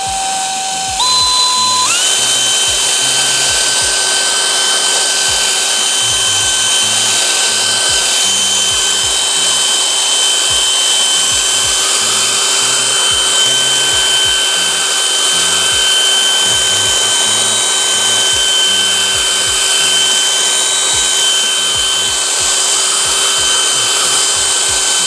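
A power polisher works Griot's Garage ceramic metal polish into a wheel, a loud, continuous high-pitched motor whine that steps up in pitch at the start and then holds steady for the rest, with no speech.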